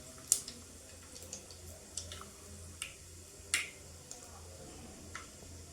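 Spices, asafoetida, turmeric, garam masala, coriander-cumin powder and red chilli, crackle in hot oil for tempering dal dhokli, sharp scattered pops spaced irregularly over a quiet background.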